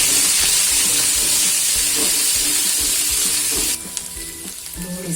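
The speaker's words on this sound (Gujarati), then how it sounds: "તો હવે તેમાં આપણે પહેલાં ડુંગળી નાખી દઈશું ડુંગળી સરસ એકદમ મસ્ત આપણે ગળવા દઈશું" Chopped onions sizzle in hot oil in a pan for Gujarati rajma, a loud, dense frying hiss with stirring scrapes that drops to a softer crackle near the end.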